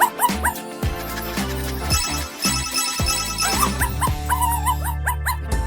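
A toy dog yipping and whimpering in a cat-themed crafts setting, a series of short high barks and whines alongside a bright electronic ringtone-like melody, loud and close.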